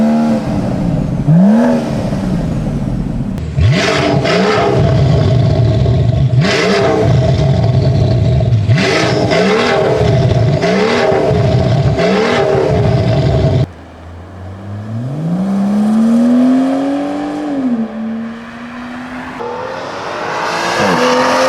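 A BMW M760i V12 fitted with a new stainless steel exhaust barks through a quick run of sharp revs, then pulls one long rising and falling sweep, loud and close, with no talking.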